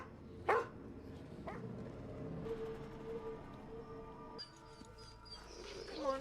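A dog barks a couple of times, sharp and fairly close, over a busy background with music-like tones and rustling, in a scene from The Last of Us Season 1 Episode 1.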